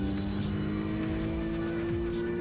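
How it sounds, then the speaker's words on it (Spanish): A blue cartoon car speeding up at a turning traffic light, a steady engine drone with rising and falling tones, close and continuous. "el coche azul acelera en lugar de detenerse"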